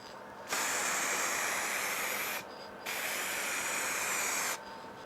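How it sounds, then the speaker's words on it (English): Two sustained hissing bursts from an HB Pro aerosol can with a fan nozzle, spraying a light coat on a car headlight, each about two seconds long, separated by a short pause, loud and close. "normal spraying techniques apply here. First of all, a light coat."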